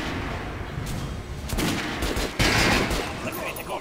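Rapid bursts of gunfire from the video game Metro Last Light Redux, loud and dense with heavier booming shots near the end, playing without talk.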